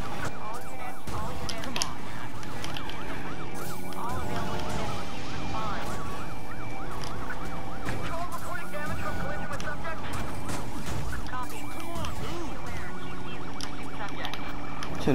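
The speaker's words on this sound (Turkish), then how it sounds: "Açalım sireni." A police car siren wails in Need for Speed Payback, its rising and falling tone running steadily throughout over dense game music and engine noise, with some talk mixed in.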